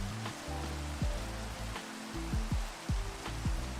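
Rain falls at night in a block-building game, a steady soft hiss running throughout beneath tonal music and sweeping game sounds.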